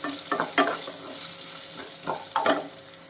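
Small onions, halved, sauté in a pan for a curry leaf chutney, giving a steady soft sizzle broken by a few louder spatula stirs and scrapes.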